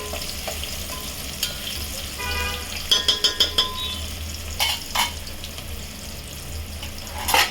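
Onions fry in oil in a pan for a bitter gourd gojju, giving a steady close sizzle with a few stirring scrapes and clinks of a utensil, and no voices.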